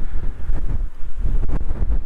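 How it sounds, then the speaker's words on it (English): Strong desert wind gusts across an exposed hilltop among boulders, buffeting the microphone in loud, uneven rumbling bursts with brief lulls between them. "Too windy for good filmmaking purposes"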